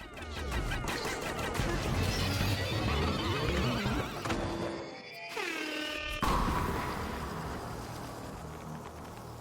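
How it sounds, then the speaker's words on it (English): Groovy Longlegs, a defeated boss in a Pikmin video game, lets out twisted, distorted noise and then a loud, harsh foghorn blast. The dense, clashing tones break off briefly and return before slowly dying away. "makes twisted and distorted sounds from its speaker before blasting a foghorn and falling completely silent"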